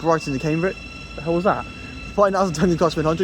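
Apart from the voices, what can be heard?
None of the usual background noises is heard.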